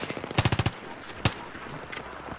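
Battlefield 3 gunfire: a rapid automatic burst of about six sharp, close shots, then a lone crack and a few scattered softer shots trailing off.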